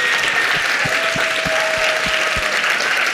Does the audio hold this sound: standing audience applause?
yes